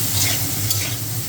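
A utensil stirs ridge gourd frying in a pan, a brief close scrape over a continuous loud sizzle.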